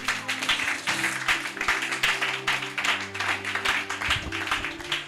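A church congregation breaks into sustained applause and clapping that holds steady throughout, with a low organ or keyboard drone sounding beneath it.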